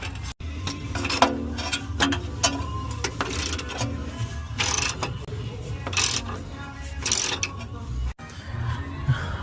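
Steady, close metallic clicking and clatter from a wrench working the 14 mm bolts on an exhaust bracket of an Infiniti QX70 FX37 during a resonated test pipe install, with some workshop noise in the background.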